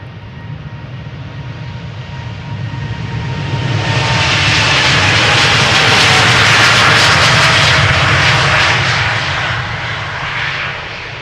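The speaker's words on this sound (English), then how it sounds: "KLM flight 635, Boeing 787-10 Dreamliner, 3 years old" A three-year-old KLM Boeing 787-10 Dreamliner taking off from Amsterdam Schiphol, a loud jet roar that swells from a steady rumble into a broad hissing peak and then slowly eases as the aircraft passes.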